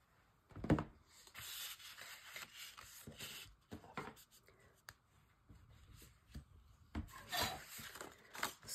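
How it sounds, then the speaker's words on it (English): A folded paper flap is burnished with steady rubbing strokes, soft scraping and swishing bursts that rise and fall close by, with a louder pass near the start and end. "So fold and burnish this."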